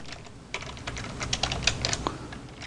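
Fast, light clicks of typing on a computer keyboard, close and crisp, come in irregular bursts while data is entered for a Korean computerized tax accounting exercise.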